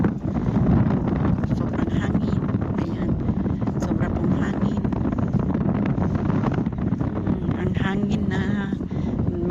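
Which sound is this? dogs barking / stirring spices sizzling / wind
wind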